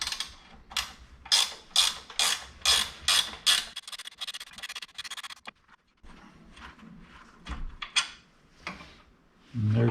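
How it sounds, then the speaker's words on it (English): A ratcheting wrench loosens a bolt on a Subaru Outback front steering knuckle, giving close, loud bursts of rapid ratchet clicks in a steady rhythm, a short pause, then more uneven ratcheting strokes. "there is space to get a ratcheting wrench in on both of those"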